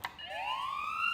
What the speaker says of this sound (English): That sound is a police siren,